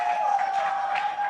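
Crowd cheering and applauding at an esports World Championship quarterfinal arena, a steady continuous roar at close, loud level with no gaps.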